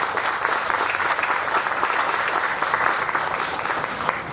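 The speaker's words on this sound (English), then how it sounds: "So let's give them a round of applause." Steady audience applause at a Walmart groundbreaking ceremony in New Orleans, a dense crowd clapping continuously at moderate volume with no talk over it.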